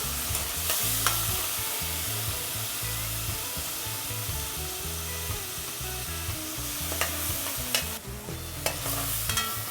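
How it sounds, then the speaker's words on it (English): Ground provisions frying and sizzling in a pot in Paramin, Trinidad, with steady stirring scrapes and clatter throughout, loud and close, no talk. "Everything frying up."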